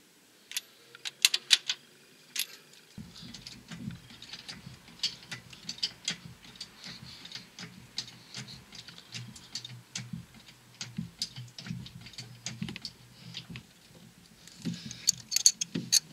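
Ratchet turning an engine crankshaft during a timing belt and coolant pump replacement, giving quiet irregular clicks and ticking with soft mechanical rattles over a faint low hum.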